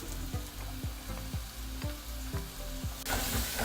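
Chopped onion and garlic frying in a pan while being stirred: a steady sizzle with regular scraping strokes of the utensil, about one every half second, and a brighter burst of sizzling at the end.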